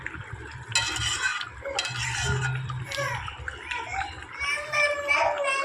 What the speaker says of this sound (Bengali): ফোটার পর আমি ঢাকনা তুলে নাড়িয়ে দিলাম